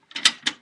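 Nakamichi cassette deck mechanism slowly opening, heard as a short run of soft mechanical clicks and whirring ratchet-like movement, close and quiet, with two main bursts.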